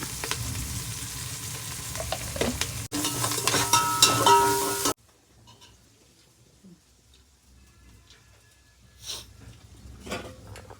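Coriander, mint, curry leaves, ginger and onion frying in a pan for chicken mandi, a loud close sizzle with stirring that cuts off halfway, leaving faint kitchen clatter.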